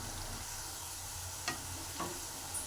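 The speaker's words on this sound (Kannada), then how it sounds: "ನೋಡಿ ಎಣ್ಣೆಯಲ್ಲಿ ಹೇಗೆ ಕುದೀತಾ ಇದೆ ನೋಡಿ." Bitter gourd pieces fry in hot oil with a steady, soft sizzle and bubble, punctuated by a couple of light stirring clinks and scrapes.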